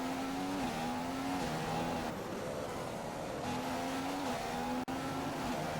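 McLaren Honda Formula 1 car racing around the Singapore circuit in a video game, engine droning steadily with pitch rising and dropping through gear changes and corners, loud and continuous with no talk.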